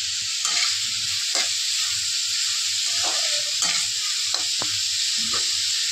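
A spice paste of onion, ginger, garlic and tomato sizzles with golden-brown onions in a pan, a loud steady frying hiss broken by several sharp scraping stirs and clinks, with no talk.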